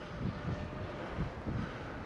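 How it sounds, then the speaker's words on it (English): A faint, steady drone aircraft hums overhead near Mam Tor in the Hope Valley, with a soft pulsing rhythm, distant and low over light wind. "oh, I can hear a drone."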